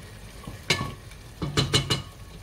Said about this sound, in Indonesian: kita masukkan kaki ayamnya, terus dibolak-balik supaya bumbunya itu mengenai kaki ayam semua ya